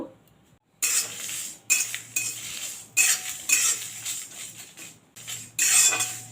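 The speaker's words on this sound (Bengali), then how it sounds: "মেথি মুড়ি আর শুকনো লঙ্কা আমি প্রথমে একটু হালকা করে ভেজে নেব" Fenugreek seeds and dry red chillies frying lightly in a wok for mango pickle spices, heard as bursts of metal utensil scraping and clinking against the pan, separated by short quiet gaps.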